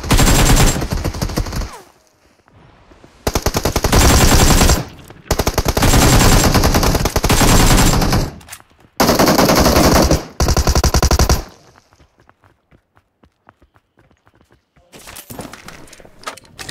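Automatic weapon fire in the battle royale game BGMI, played as long loud rattling bursts separated by brief pauses, then a short quieter burst near the end, with no talking over it.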